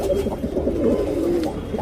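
Tournament racing pigeon cooing nearby, a low throaty warbling coo rolling continuously with soft breathy pulses, close and clear.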